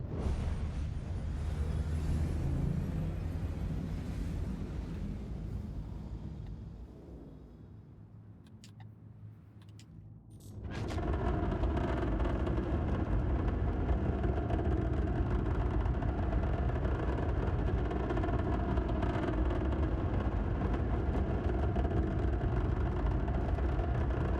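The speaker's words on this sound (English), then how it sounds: "Engines on." Spaceship engines in Star Citizen hum steadily, dip to a quieter lull, then kick back on at about the midpoint into a loud, dense, continuous mechanical drone that holds to the end.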